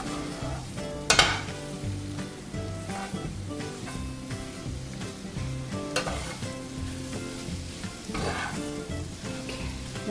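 Frittata eggs sizzle in a hot pan while a utensil pushes the edges inward and moves them around. A steady crackle plays under a few sharp scraping clicks near the start, middle and end.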